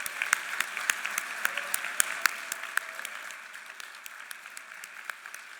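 An audience at a 50th anniversary event of the Benedict Center gives a round of applause for its staff and interns, with steady clapping and sharp individual claps standing out, gradually thinning.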